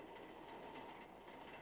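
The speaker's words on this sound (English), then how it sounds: "A great many of these people make their daily trips by train." A commuter train in New York rolls along with a steady rumble and faint rhythmic clatter of wheels, heard quietly and continuously with no voices.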